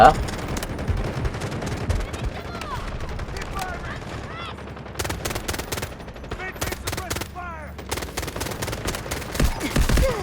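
Dense gunfire in a shooter video game, with rapid machine-gun bursts and scattered single shots crackling continuously, mixed with game voice effects and a player talking.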